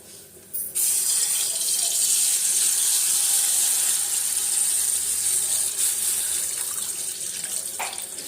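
Water from a tap starts abruptly and pours steadily into a sink, a bright hissing rush that runs for several seconds.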